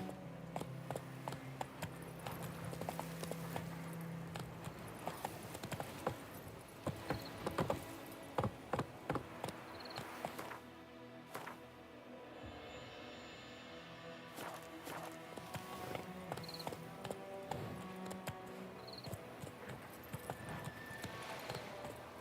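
A horse in The Witcher 3 gallops and trots in-game, rhythmic hoof clip-clops at moderate volume with surrounding game effects, some stretches of steadier running and brief pauses.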